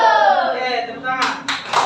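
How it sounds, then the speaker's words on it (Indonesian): A classroom of pupils breaks into applause, a dense burst of many hands clapping that swells and fades in short surges over a steady hum of voices. "Oke, tepuk tangan."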